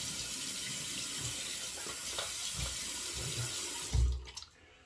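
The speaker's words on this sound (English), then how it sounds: "Also, I'll do another rinse." A tap runs steadily into a sink for a rinse during a head shave, a soft constant splashing flow that is shut off near the end, leaving a quieter room.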